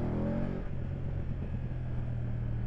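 A BMW F850 GS Adventure motorcycle engine revs under throttle in dynamic riding mode, a loud steady rumbling drone close by with the pitch rising slightly, no voices over it.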